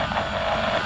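A drone flies overhead during a Call of Duty Warzone match at an airport, a loud steady whirring engine drone with a buzzy rotor tone and no break.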